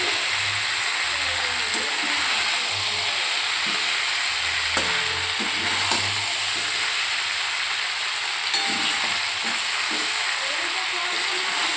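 Chicken being sautéed in a pan while the meat cooks down: a loud, steady sizzle and hiss with intermittent stirring scrapes and clinks, continuous throughout.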